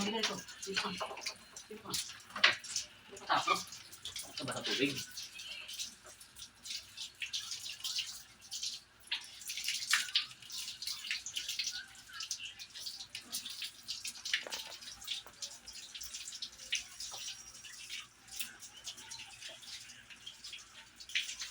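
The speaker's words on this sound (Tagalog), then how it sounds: "Lagyan ko sa planggana yung hose" Running water from a hose splashes and patters into a basin, dripping irregularly, while a dog is being bathed. A voice murmurs briefly near the start, then the water continues alone.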